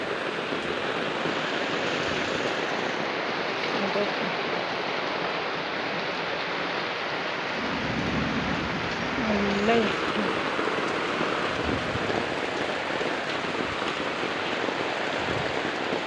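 Steady, dense rain pours down in a continuous hiss, heard from inside a house's hall, with a voice talking briefly partway through.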